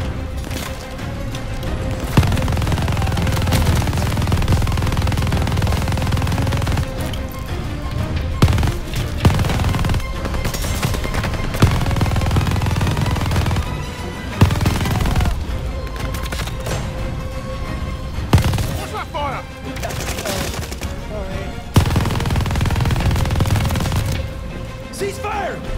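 Sustained machine gun fire roars through a Call of Duty Vanguard battle, dense and loud with rapid continuous bursts, occasional heavier booms and brief pauses, while voices shout over the din.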